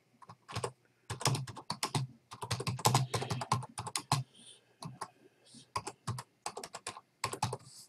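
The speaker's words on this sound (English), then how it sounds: "type your question." Close computer keyboard typing in quick, irregular bursts of crisp key clicks separated by short pauses, with no talking.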